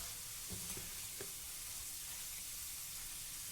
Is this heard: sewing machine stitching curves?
no